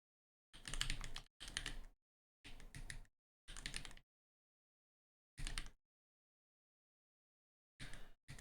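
Typing on a computer keyboard comes in several short, quiet bursts of rapid clicking separated by pauses, with a longer silent gap before the last bursts.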